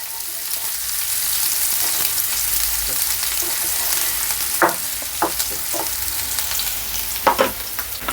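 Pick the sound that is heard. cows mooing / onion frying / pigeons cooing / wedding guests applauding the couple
onion frying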